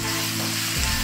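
Capsicum tossed into a pan of frying chilli chicken with masala and green chillies, giving a steady close sizzle with a brief burst of fresh crackle near the end.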